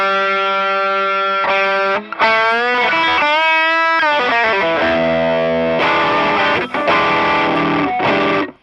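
Electric guitar played through a Boss SD-1 and a Tube Screamer overdrive stacked together, loud and saturated, with sustained distorted chords and single-note bends ringing out alone.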